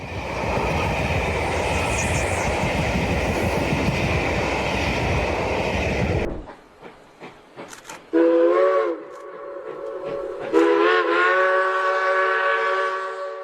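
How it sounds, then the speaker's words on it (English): Britain's steam locomotive Tornado hauls a full train unaided: a loud continuous chugging roar for about six seconds, then a sudden drop to quieter clanks and repeated steam whistle blasts. "This is Britain's famous steam locomotive Tornado, hauling the entire train without any help."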